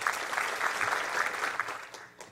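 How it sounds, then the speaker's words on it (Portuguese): A conference audience at a Rails Summit talk claps together for about two seconds, a dense, even burst of applause that fades slightly at the end, with no voices over it. "vocês batam palmas por uns 2 segundos"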